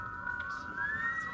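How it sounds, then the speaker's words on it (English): Sustained high whistling tones drifting slightly in pitch over a low rumbling background, steady and continuous with no talking. "Why are they whistling?"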